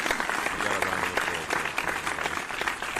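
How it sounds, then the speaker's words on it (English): Applause sound effect played during a news discussion about a cruise line suspending sailings, a dense, fairly loud burst of clapping with a faint low murmur underneath. "You got a round of applause."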